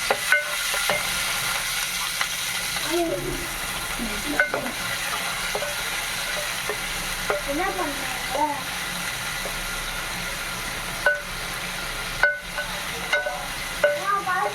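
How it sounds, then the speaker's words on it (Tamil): Chopped onions fry in hot ghee in a pan for wheat rava kichdi, giving a steady sizzle with sharp scraping and stirring clicks. Someone speaks briefly over the cooking. "இப்போ வெங்காயம் இந்த அளவுக்கு வதங்கிடுச்சு கிச்சடிக்கு."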